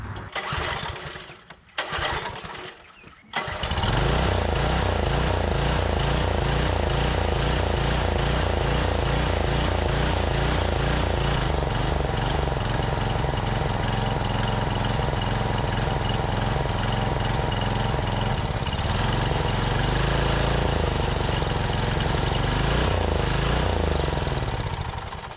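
An old garden tiller repowered with a new small engine sputters briefly, then catches and runs loud and steady for over twenty seconds, its rough throttle note shifting slightly as it idles and revs.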